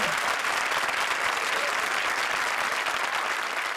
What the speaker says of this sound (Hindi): थैंक यू प्रिंस, आपकी एक्स्ट्रा इनिंग्स के लिए जोरदार तालियां।